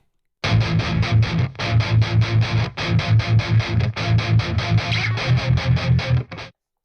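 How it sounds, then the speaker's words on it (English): Chugging distorted electric guitar riffs, with a tone through Neural DSP Fortin NTS and Nameless with a custom impulse response, play in tight rhythmic bursts, heavily saturated with a thick low end, pausing briefly between phrases before ringing out. "Here is the custom impulse response that I used for the video"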